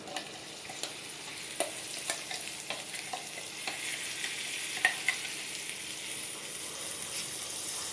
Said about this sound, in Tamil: நம்ம அரைச்சி வச்ச மசாலாவை அதிலே ஆட் பண்ணி கொஞ்சம் வதக்கிக்கலாம்